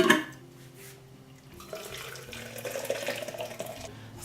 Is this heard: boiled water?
yes